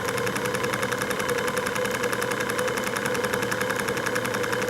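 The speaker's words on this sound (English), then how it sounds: "The engine appears to be just ticking over, but it's probably sitting on around 550, 600 revs" A steam engine ticks over at a slow idle around 550 to 600 revs, giving a steady close, evenly pulsing mechanical beat with a constant hum and no speech.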